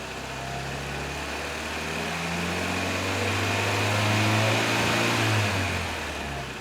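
A 1964 Triumph TR4 engine with an electronic ignition conversion revs steadily as the throttle opens, its tone rising and holding high, loud and close with no talk.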